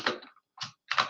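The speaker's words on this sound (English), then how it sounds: "My keyboard is a bit clunky" A clunky computer keyboard is typed on in three separate sharp bursts of keystrokes, close and clear, with quiet gaps between them and no voices.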